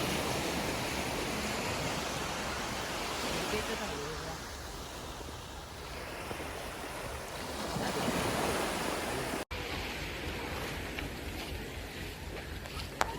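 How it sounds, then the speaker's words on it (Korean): Ocean waves breaking on a beach at Geumil Island, a continuous loud roar of surf mixed with gusty wind rumbling on the microphone, with voices faintly present. "파도는 깨 쳐서 파도 타게 하면 정말 재밌는 바다예요"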